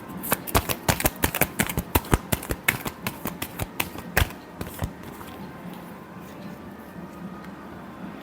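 Tarot cards being shuffled by hand: a rapid run of crisp riffling slaps and flicks for about five seconds, close and fairly loud, then quiet handling with soft rustles.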